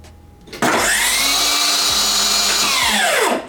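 A cordless Milwaukee M18 table saw spins up abruptly and cuts a zero clearance throat plate insert, a loud, sustained high whine for about three seconds before it starts winding down.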